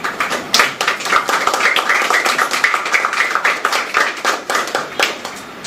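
Audience applause at a tennis tournament press conference, a steady run of dense hand clapping from a nearby crowd lasting several seconds with no talk over it.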